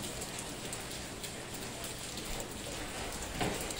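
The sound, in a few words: rain falling in Jiufen, Taiwan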